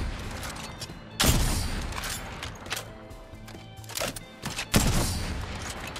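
A Sentinel sniper rifle fires in Apex Legends, with two loud, sharp booming shots spaced a few seconds apart. Mechanical bolt-action clicks and creaks are heard between them.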